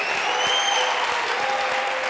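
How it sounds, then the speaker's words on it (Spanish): Studio audience applauding on a Spanish political satire show, a steady, dense wash of clapping that holds evenly throughout without a break. "Y que siga el aplauso, señoras y señores."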